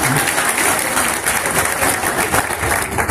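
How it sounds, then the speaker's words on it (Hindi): Loud, close crowd applause welcoming a candidate at a political rally, continuous dense clapping throughout without pause. "सब लोग ताली बजा करके स्वागत करो एक बार और।"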